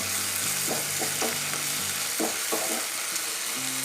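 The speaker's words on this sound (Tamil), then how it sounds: "வெங்காயம் தக்காளி நல்லா வதங்கியிருக்கு." Onions and tomatoes sautéing in a pan for kara chutney, giving a steady, close frying hiss broken by soft repeated stirring scrapes, with no one speaking.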